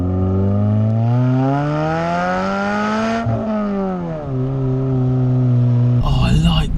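Modified Suzuki Swift Sport with a back box delete exhaust pulls hard through the gears from inside the cabin, a loud rising engine note that dips at the shift and climbs again, with speech partly layered over the drone.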